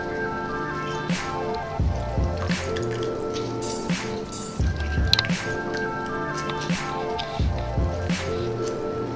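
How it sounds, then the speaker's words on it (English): Half an orange is squeezed by hand, giving repeated wet squishes and drips of juice falling into a container in an uneven rhythm, close and moderately loud. "Just squeeze the juice of half of an orange."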